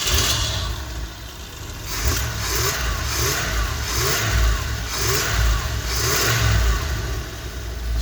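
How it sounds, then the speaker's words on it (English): An RV engine, fitted with a newly installed kill switch, cranks and catches, then runs with rising and falling revs at close range for several seconds, with no talking over it. "And so we are going to give the engine a try."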